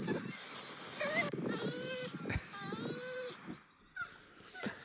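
A dog cries and whines in high, wavering whimpers and moans, close by and persistent, with some low background noise throughout.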